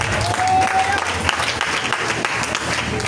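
Church congregation applauding during a French-language sermon, a dense, continuous patter of clapping at even loudness throughout, with a faint brief tone early and no clear speech over it.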